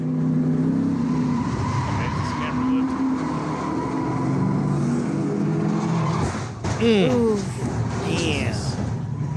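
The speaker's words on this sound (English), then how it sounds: "RJ Surdell spins in the middle of the track with the second half of the field coming at him." Race cars spin and pile up on a track, with continuous engine roar and tire squeal from several cars, a sharp skid near the end, under a commentator's talk.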